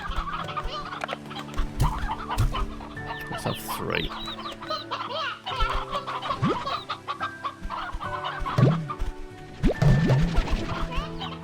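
Hens and roosters in the video game Slime Rancher 2 cluck repeatedly in a busy, overlapping flock, mixed with occasional thumps and crashes, while someone speaks briefly.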